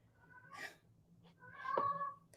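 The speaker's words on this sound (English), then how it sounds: "Can you guys hear him? My cat, I mean." A house cat indoors gives two soft, brief meows, the second longer and more tonal, faint and close in an otherwise quiet room.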